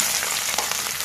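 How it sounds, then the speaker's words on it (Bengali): Sliced onion and garlic, along with dried chili and black cumin, crackle and sizzle steadily in hot oil in a village kitchen during a short, continuous burst. "পেঁয়াজ রসুন লঙ্কা হালকা হালকা ভাজা ভাজা হয়ে গেছে।"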